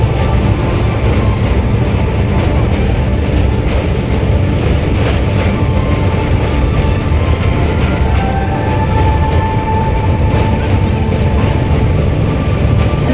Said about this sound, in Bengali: আমরা এবার ট্রেন করে সোজা আমোদপুর।